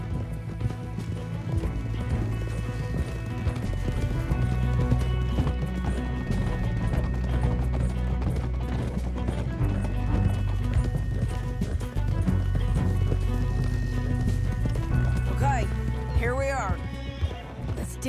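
Horses galloping in Red Dead Redemption 2, a dense run of hoof clip-clops with a whinny near the end, over a continuous bed of game music and sound.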